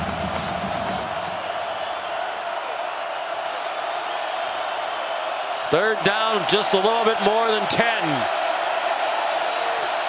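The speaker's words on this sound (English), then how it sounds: "Crowd fully engaged" Crowd noise fills a college football stadium at West Virginia, a constant roar under a commentator's voice, then rising yells and whoops surge for a few seconds before easing.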